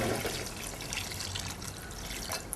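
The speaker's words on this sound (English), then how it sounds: "Pour enough water to cover the meat." Water poured into a pot over lamb chops for a curry cooked with whole spices, a steady splashing stream running throughout, close and moderately loud with no talking.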